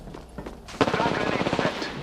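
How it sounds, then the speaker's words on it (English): Gunfire in the Apex Legends arena mode, a rapid automatic burst of shots that starts abruptly after a quieter moment and runs close and loud to the end. "I'm taking fire."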